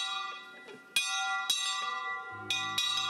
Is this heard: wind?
no